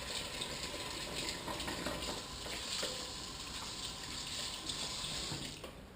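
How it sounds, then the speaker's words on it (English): Tap water runs continuously into a sink as hands are washed after a kayak crappie catch and cook. A steady close hiss of splashing water carries on for the whole stretch with no talking. "Let me wash my hands."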